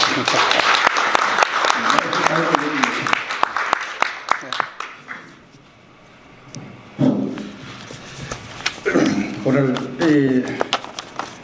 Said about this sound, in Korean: 오늘 두 분의 영사님과 윤영호 우리 좌장님을 위해서 큰 박수를 시작하면서 시작하겠습니다.